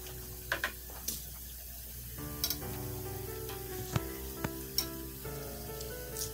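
Baduva kajjaya, a traditional Coorg snack, frying in hot oil with a steady soft sizzle, plus a few sharp clinks of a stick or ladle turning the pieces in the pan.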